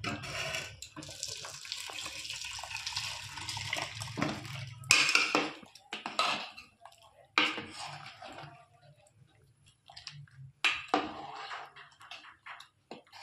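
Lentils poured into a pot of boiling vegetables for garur dal, splashing liquid and clattering pot and utensil sounds in several separate bursts with quiet gaps between.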